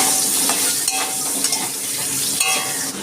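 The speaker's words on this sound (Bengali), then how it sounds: "আমি এই তেলেই আলুটা ভেজে নিচ্ছি" Cut potatoes fry in hot oil already used for pointed gourd, giving a steady close sizzle with occasional stirring clinks and scrapes throughout.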